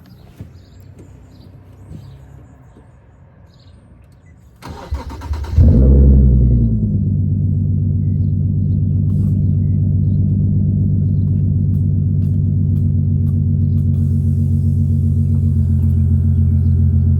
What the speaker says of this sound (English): last cold start without a full exhaust.